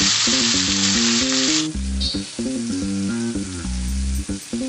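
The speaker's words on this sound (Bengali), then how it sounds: "টমেটোগুলোকেও দিয়ে সামান্য একটু নেড়ে চেড়ে নেব" Tomato pieces fry and get stirred in a pan with five-spice seasoning for a tomato chutney: a loud hiss of sizzling at first, then softer frying beneath steady stepping background music.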